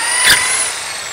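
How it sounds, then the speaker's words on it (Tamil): An electric drilling machine bores a hole while a homemade cotton candy maker is built from a mixer grinder, giving a brief, steady high-pitched motor whine at close range with a slight swell near the start. "நான் ட்ரில்லிங் மிஷினை யூஸ் பண்ணி ஒரு ஹோல் வந்து போட்டுக்கிறேன்"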